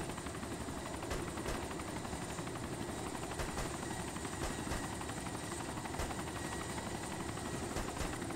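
A helicopter in the military video game ArmA 2 flies with a steady, continuous rotor and engine drone that stays loud and unbroken throughout, with no talk over it.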